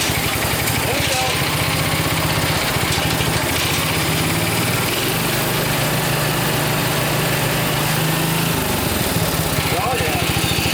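Homelite Jacobsen riding mower engine running steadily close by, a loud continuous rumble with a rough vibrating idle, its pitch shifting slightly as the throttle changes.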